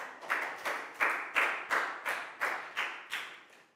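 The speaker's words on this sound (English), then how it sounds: "Big round of applause for Chu," A class of children claps together in about ten evenly spaced, unison claps, each a sharp close burst fading quickly, with no talking over it.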